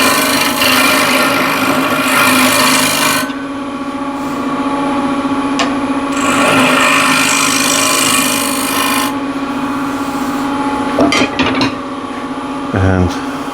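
A woodturning lathe hums steadily while a tool trues up the top of a yew box, with loud scraping bursts of cutting that come and go and a few sharp knocks near the end.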